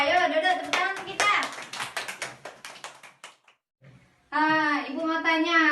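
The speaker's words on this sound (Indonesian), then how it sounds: "yuk duduk tepuk tangan untuk kita" A class of children claps their hands together in a short burst of quick, uneven claps, fading into a brief pause before a voice speaks clearly up close.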